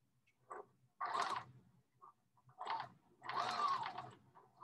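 A sewing machine stitches along a curved line for understitching a garment, running in short bursts of rapid mechanical whirring with pauses between, close and fairly quiet.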